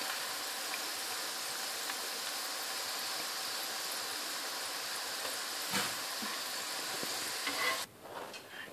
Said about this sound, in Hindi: ये देखें ये सारी दाल तली गई, ऊपर आ गई है ना, ये तली गई है।